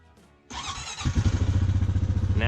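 ATV engine catching after a little gas is added: a sharp start at about half a second, then a close, loud, steady putter of rapid firing pulses that keeps running, with a dog nearby in the setting.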